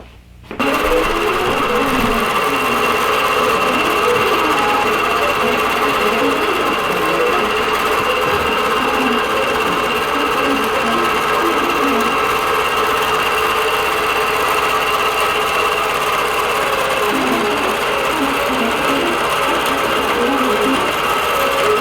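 A quilting sewing machine runs continuously while stitching a row of a Dresden checkerboard quilt, with a loud steady mechanical hum and rhythmic needle chatter that stays unbroken from start to finish.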